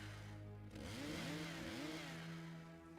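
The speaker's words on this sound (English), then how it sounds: "So how's the chainsaw work?" A chainsaw in the Evil Dead video game: a steady motor drone that revs up and down in a few quick surges before it settles, fairly close, with no speech.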